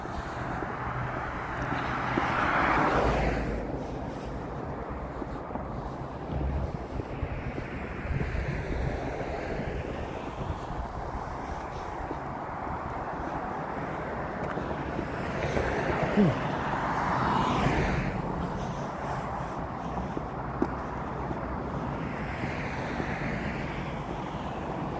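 Strong, cold wind gusts buffet a microphone outdoors on an evening walk in a suburban area, producing a low, rumbling roar that swells and fades in waves, with occasional faint distant sounds underneath.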